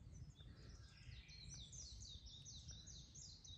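Chorus of many birds singing and chirping around an open-air hot spring, overlapping calls repeating throughout at moderate distance over a low steady rumble of running water.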